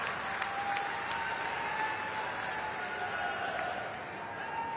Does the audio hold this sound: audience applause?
yes